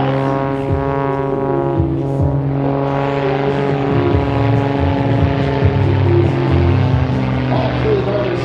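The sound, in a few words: Northern Stars aerobatic airplane performing a forward somersault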